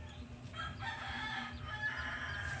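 A bantam rooster crows repeatedly at a moderate distance, its drawn-out calls rising over a low, steady outdoor background. No one speaks.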